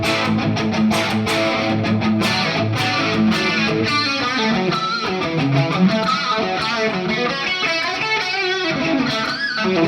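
A heavily distorted electric guitar, a 1975 Ibanez Les Paul Custom copy with a Super Distortion bridge pickup, plays a thick, continuous riff with chords and sustained notes, loud and without any voices.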